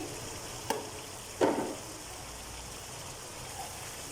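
Meat with tomatoes and garam masala frying in a pan for karela gosht, a steady soft sizzle with a couple of brief stirring knocks.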